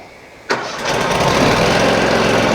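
A HotJet 2 37HP fuel-injected engine on a trailer-mounted jetter cranks with a sharp start and catches, rising into a loud, steady close-range idle with no talk.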